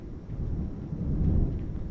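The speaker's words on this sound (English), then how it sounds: "All right, there's some thunder" A deep, low rumble of thunder rolling continuously, swelling slightly toward the end, with no voices.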